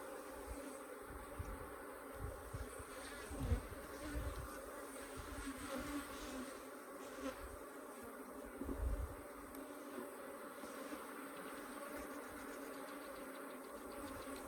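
Africanized hybrid honey bees swarm around open hives in southern Arizona, a dense, steady buzzing that fills the whole stretch, with a few louder passes as bees fly close.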